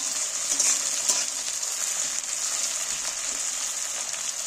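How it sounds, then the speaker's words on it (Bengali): Chopped tomatoes sizzle steadily in hot oil in a pan for egg tadka, with soft scraping and stirring noises running through the constant frying hiss. "টমেটোটা তেলের মধ্যে নাড়াচাড়া করে ভেজে নিচ্ছি একসাথে।"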